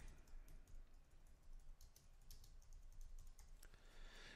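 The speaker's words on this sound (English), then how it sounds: "typing in our project name" Fingers type a project name on a computer keyboard, a quick run of soft, close key clicks at a low level with no speech.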